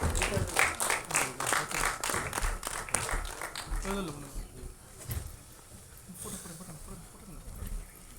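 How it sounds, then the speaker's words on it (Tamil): Audience applause at an album song screening festival event, dense clapping building in the first half with a voice over it, then thinning into scattered claps and murmur. "அடுத்ததாக கியா தரன் அவர்களை மேடைக்கு கூப்பிடலாம் ஒரு பலத்த கைத்தட்டலுடன்"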